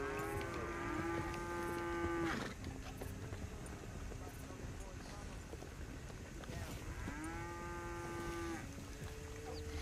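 Cows mooing in Red Dead Redemption 2 on a farm, two long drawn-out moos a few seconds apart, fairly close, over hoof clip-clop and outdoor game ambience, with someone talking.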